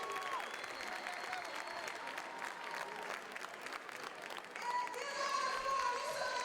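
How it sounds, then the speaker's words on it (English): Spectators at an indoor high school track meet applaud after a boys 400m race, a sustained wash of clapping and crowd noise with an announcer talking over it, swelling louder toward the end. "Clap it up for Quincy"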